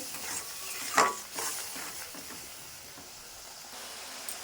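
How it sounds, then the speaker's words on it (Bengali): Spices with turmeric being sautéed and stirred in a pan for a prawn dish, soft sizzling hiss under scraping and clinks of a spatula against metal, quiet and close. "আর হাফ চামচ দিয়ে দিলাম হলুদ মশলাগুলো ভালো করে কষিয়ে নিতে হবে নাড়িয়ে চাড়িয়ে"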